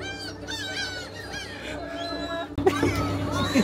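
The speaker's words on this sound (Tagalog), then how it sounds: "Oh my God, ang daming ibon." A large flock of birds calls close by on a day trip around Ine and Amanohashidate in north Kyoto, honking and squawking cries overlapping continuously, growing louder and denser near the end as voices chatter underneath.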